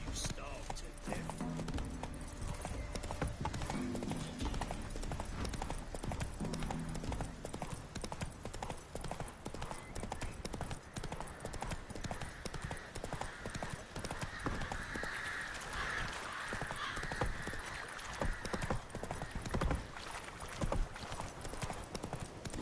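Horse hooves clip-clop at a gallop in The Witcher 3: Wild Hunt on PS5, a steady drumming rhythm under game music and character dialogue, with a brief whinny near the start.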